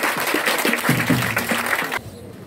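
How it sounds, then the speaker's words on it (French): An audience at a French school debate applauds the second team, sustained clapping mixed with a low voice or murmur underneath, cutting off sharply near the end. "Maximum d'applaudissements pour la seconde équipe."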